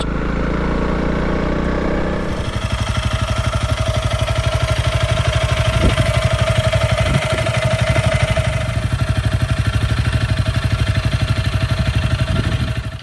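A small Honda motorcycle rides off-road over rough farm track, its engine chugging in a close, rapid pulsing thrum with a few louder bursts, heard alone without talk.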